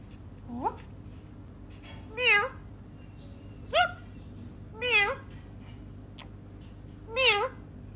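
A cat meows five times in short, rising-falling calls spaced about a second and a half apart, close and clear over a low steady household hum.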